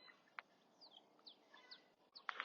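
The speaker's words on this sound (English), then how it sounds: "have birds all over the place." Faint, high bird chirps and short whistled calls scattered outdoors, a few sharp tweets near the end, over a quiet background.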